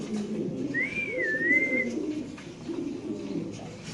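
Pigeons coo at a pigeon market selling setting and mundian breeds, soft throaty cooing close by with a brief whistle-like tone rising over it.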